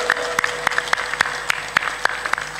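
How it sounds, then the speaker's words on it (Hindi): Audience clapping at a Hindi spiritual discourse, sharp hand claps landing together in a steady, even beat about four per second, loud and close, with a faint steady tone humming underneath. "बजाओ ताली"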